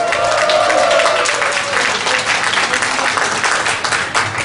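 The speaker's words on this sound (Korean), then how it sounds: "정말 준비하느라고 애쓴 우리 21기에게 큰 박수와 함성의 에너지를" A crowd at a Korean university freshman welcome party in an army hall bursts into loud, dense applause and cheering that holds steady for several seconds before easing slightly.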